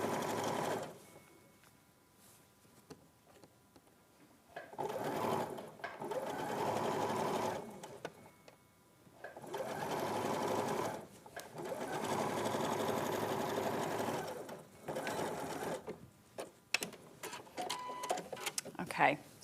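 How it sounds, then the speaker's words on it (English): A domestic sewing machine stitches around a garment armhole in several bursts of steady mechanical whirring separated by short pauses, fairly quiet, with some talk in between. "Right, so I'll sew this armhole and just show you what it looks like when you pull it through."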